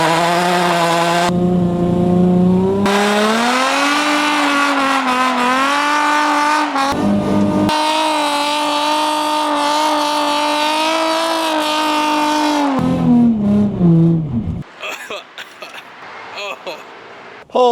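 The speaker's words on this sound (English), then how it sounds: "Do I pop a burnout right now?" A Nissan 350Z engine revs hard and sustained during a burnout in a parking lot, with a rising, screaming whine of spinning tires, loud and close, then cuts off into scattered noise.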